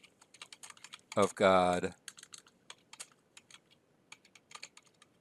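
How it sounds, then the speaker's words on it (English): Someone types on a computer keyboard with quick, light, irregular taps close by, and a short stretch of a man's speech cuts briefly across the clicking. "So let me type that out."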